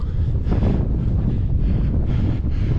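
Strong headwind roars across the microphone at the Col de la Seigne, a high alpine pass near 2650 m on the French–Italian border, with a steady, loud low rumble and gusty buffeting throughout and no voices.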